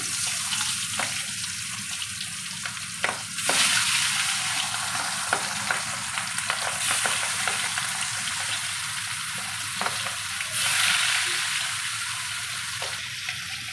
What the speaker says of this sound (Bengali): হালকা করে মাছটাকে ভাজতে হবে